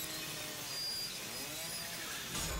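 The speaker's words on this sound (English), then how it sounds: "That is a huge chainsaw." A huge chainsaw from the horror video game The Evil Within buzzes in a continuous harsh snarl for a couple of seconds, loud and close, with no talking.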